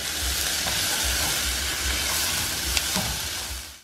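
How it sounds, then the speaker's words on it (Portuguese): Chopped onion sautéing with fried sausage in a hot pan, a steady loud hiss and sizzle running throughout with a faint clink near the end, no voices. "eu vou deixar essa cebola dar uma refogada e já entro com o alho também"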